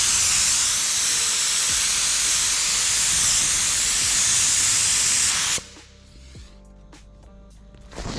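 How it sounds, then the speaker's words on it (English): A spray gun spraying epoxy paint, a loud steady hiss held close for about five and a half seconds before cutting off abruptly into quiet room noise. "Sprayed on the epoxy"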